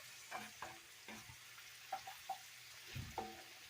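Hamburger steak patty searing in a hot pan, a soft steady sizzle with a few scattered clinks and scrapes, fairly quiet and close, no one speaking.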